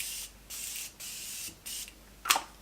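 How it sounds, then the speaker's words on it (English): Morphe setting spray puffs from a pump bottle in four hissing bursts of about a third to half a second each, close and fairly quiet. A short bright clink follows at the end. "I'm gonna spray with my Morphe setting spray"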